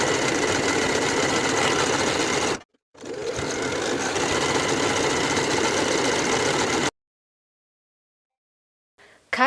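A sewing machine topstitches along both long edges of denim belt loop pieces, running in a steady, loud, close whir that breaks briefly, resumes for several seconds, then stops into silence.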